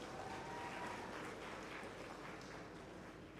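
An audience at a gala dinner applauds a band with a continuous, moderately faint patter of clapping that stays steady for a few seconds.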